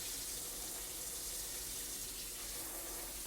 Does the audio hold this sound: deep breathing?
no